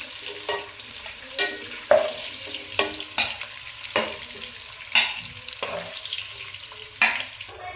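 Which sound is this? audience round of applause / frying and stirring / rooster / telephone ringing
frying and stirring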